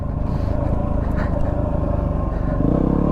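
A Yamaha WR250R dirt bike runs on a single-track trail, its engine a steady close drone with a low throbbing pulse that swells slightly near the end, with a voice faintly under it.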